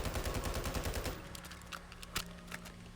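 Rapid unsuppressed gunfire from a compact close-quarters Hemlock rifle mod in Fallout 4, a loud continuous burst of shots lasting about a second, then ringing echo and a few scattered fainter cracks alone.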